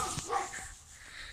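Dogs bark in the distance during an outdoor ball game, with a couple of short barks early on and faint yips fading under light background noise.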